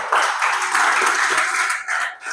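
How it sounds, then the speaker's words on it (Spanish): A Spanish-speaking church congregation applauds during a service, a sustained, wash-like round of clapping from many hands filling the room. "Dale un aplauso al Señor."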